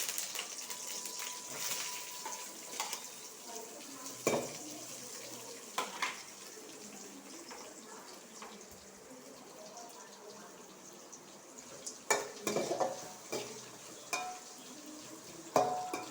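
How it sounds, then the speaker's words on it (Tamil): Chopped onion, green chilli and curry leaves fry in a hot kadai for a vegetable poriyal, giving a steady close sizzling hiss broken by sharp scraping clinks as a spoon stirs, with no talk. "நல்லா கிண்டி விட்டுக்கலாம் அப்புறம் வெங்காயம் பச்சை மிளகா கருவேப்பிலை எல்லாத்தையும் சேர்த்துக்கணும்"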